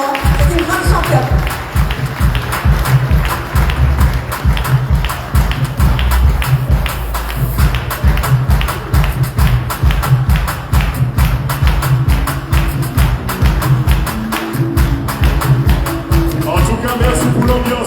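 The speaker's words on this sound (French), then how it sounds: "on peut l'applaudir très très très fort" A crowd applauds a champion athlete at a sports reception, dense and loud clapping sustained throughout, with heavy thumps and shouting mixed in, close and lively.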